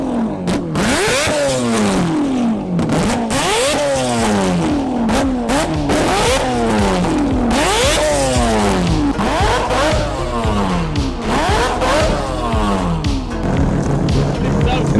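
Adam LZ's Toyota Supra, tuned to sound like an F1 car, revs hard again and again, its engine note climbing and falling in sharp repeated sweeps, loud and close throughout.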